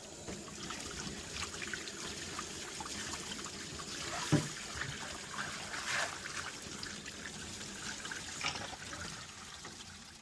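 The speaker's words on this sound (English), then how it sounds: "I'll wash my hands." Running water trickles and splashes steadily as hands are washed, with a few louder splashes along the way and no talking.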